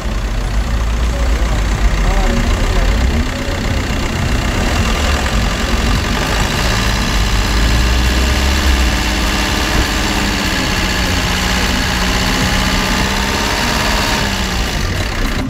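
A diesel car idles at a car market with a constant low rumble and deep drone, its pitch shifting slightly as it is gently revved, loud and close, with voices in the background.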